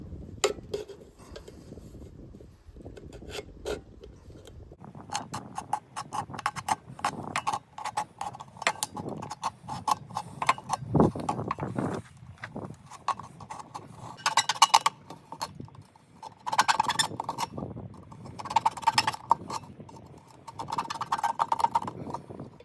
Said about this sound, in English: I think I'll go ahead and cut this seam first.